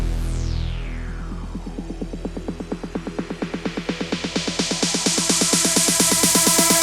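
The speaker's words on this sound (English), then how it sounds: "I added another drum track just to be my kind of dedicated build and swoosh track." A techno drum build and swoosh track on an MPC Live III: a falling sweep opens, then a steady pulse of drum hits speeds up and rises in pitch and loudness, with a rising wash of noise on top, and no talking.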